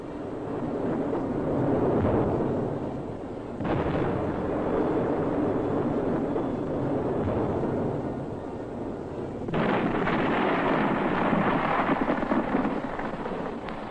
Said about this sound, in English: so many rounds were fired that the guns dug themselves into the soft ground